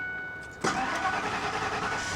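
A Ford F250 truck engine with a 4.6, bought from a salvage auction lot, cranks briefly and then catches, settling into a steady, fairly loud idle close by.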